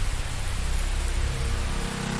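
Steady rain shower hissing as an anime sound effect, a dense, continuous wash of broadband noise with a low rumble underneath, heard alone with no voices.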